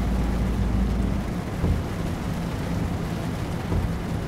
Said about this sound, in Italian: Pioggia veramente.